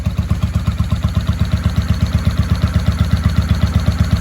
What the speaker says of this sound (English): She's idling real nice.